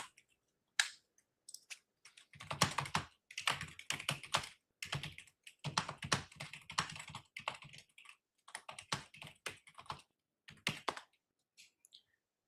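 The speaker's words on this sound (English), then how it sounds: "More aggressive typing." Fast, forceful typing on a computer keyboard, with dense bursts of close clicking keystrokes separated by short pauses and no talking.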